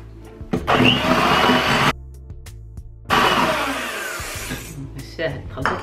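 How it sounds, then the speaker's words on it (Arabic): An electric blender mixes cocoa into eggs for a keto chocolate cake batter, running in two loud, steady whirring bursts separated by a short pause, with a few clicks between. "أحسن نضرب في الخلاط، نبي يتخلط الكاكاو مع البيض."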